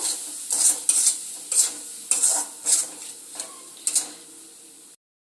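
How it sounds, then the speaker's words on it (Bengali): Spice paste with salt and turmeric being stir-fried in a pan: a series of about eight rhythmic scraping strokes, each with a bright sizzling burst, close and clear with no talking, ending abruptly. "মশলাটাকে এবার খুব ভালো করে কষিয়ে নেব।"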